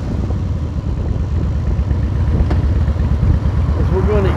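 A motorcycle riding down the road on a tour, its engine a steady close low rumble with constant wind buffeting throughout, no clear speech over it.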